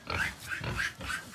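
Piglets in a warm farm pen give a quick series of soft grunts, about four short rhythmic snorts close by and fairly faint, with no talking.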